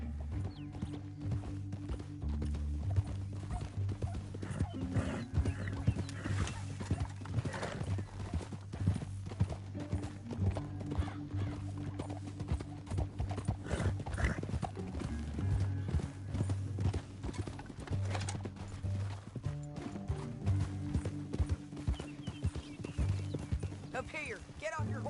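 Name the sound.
horses galloping, Red Dead Redemption 2 video game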